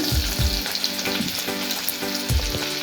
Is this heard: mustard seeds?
yes